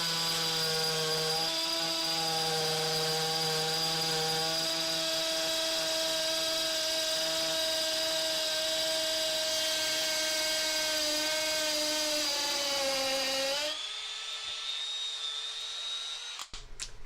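A Milwaukee M12 FUEL hammer drill bores into concrete block with a Bosch masonry bit, a loud sustained high whine that drops slightly in pitch before cutting out near the end, leaving a faint tail.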